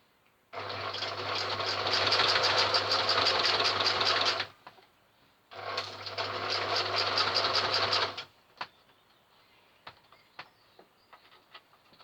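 A sewing machine stitches the drawstring channel of a fabric protective mask in two long loud bursts of rapid even whirring, close up, separated by a short pause, followed by a few faint clicks and taps.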